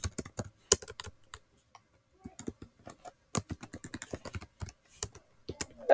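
Someone types on a Chromebook keyboard up close, with bursts of quick plastic key clicks broken by short pauses and a few harder taps.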